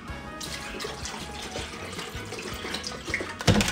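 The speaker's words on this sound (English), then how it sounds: "I'm going to add some almond vanilla milk." Almond vanilla milk pours into a protein shake with chia seeds, a continuous close liquid stream with light splashing and gurgling that swells near the end and carries no talk.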